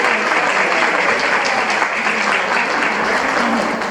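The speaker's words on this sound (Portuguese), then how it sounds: "vejo uma salva de palmas" Steady, dense applause from a seated audience at an evening lecture event, continuous and loud for the whole stretch with no clear voices over it.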